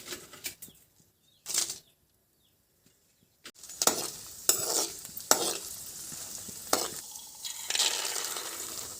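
Dried red chillies fry in oil in a kadai, giving bursts of crackling sizzle and stirring scrapes that come and go, near and fairly loud, with a quiet gap early on and no talking.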